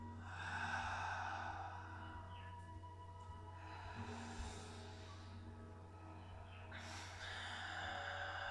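Slow, faint exhalations through the mouth during a relaxation breathing exercise in a stretching class, a few soft breathy gusts over a low steady hum.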